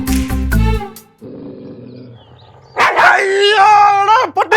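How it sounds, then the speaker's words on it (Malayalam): A dog barks loudly and close by at a house gate, a burst of sharp yelps and whimpers after a stretch of quieter sound, with people talking nearby. "പട്ടി പട്ടി പട്ടി."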